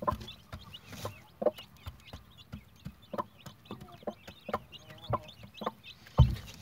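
A broody hen clucks softly beside her newly hatched chicks, including a premature one, while thin high peeps scatter between the short, uneven clucks, all close and fairly quiet.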